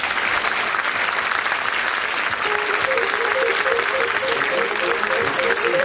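A studio audience at a radio panel show claps loudly and continuously, a dense wash of applause with a brief musical signature tune rising underneath toward the end.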